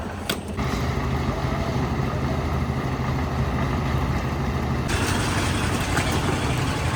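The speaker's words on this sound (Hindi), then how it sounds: "चला गया अभी गाड़ी भी।" A truck engine runs steadily at a house construction site where a roof slab is being cast, loud and continuous with mechanical creaks and a shift in tone partway through.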